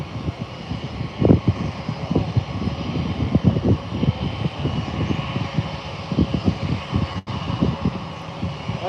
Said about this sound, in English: It's American 2674 heading to Charlotte Douglas International Airport. Registered November 998 Alpha November. Here it is coming up.